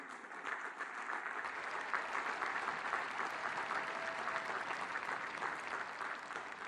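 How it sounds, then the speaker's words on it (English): A large audience at a university commencement ceremony applauds steadily, a dense wash of clapping that holds at an even level throughout. "Let's give them a round of applause."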